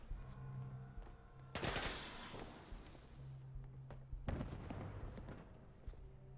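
Gunfire in the video game Fallout 4 comes as two loud bursts of shots with short decaying tails over a low game background hum, no speech.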